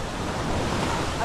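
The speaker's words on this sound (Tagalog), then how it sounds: "Tabing dagat." Waves wash in at a seaside beach, a steady broadband roar of surf mixed with wind buffeting the microphone, continuous and fairly loud for just over a second.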